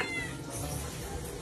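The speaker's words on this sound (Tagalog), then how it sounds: "Ganito din ba pusa nyo?" A cat meows in one drawn-out, wavering cry, close and fairly loud, over a noisy background.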